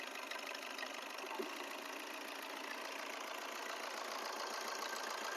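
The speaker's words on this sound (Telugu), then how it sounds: "ఇంజన్ వరకు కనకన కనకన మంచి సౌండ్ వస్తుంది." A 2018 Maruti Suzuki Swift Dzire engine idling, a steady even hum with a faint rapid ticking, close and unbroken throughout.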